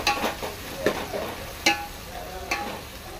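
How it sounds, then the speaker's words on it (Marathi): Tomatoes frying in a pan with onions for mutton curry, a close sizzle punctuated by four or five sharp spoon scrapes and taps spaced roughly a second apart. "सो आता हांव घालता तातूंत टोमॅटो बरो ताका फ्राय करून घेवया"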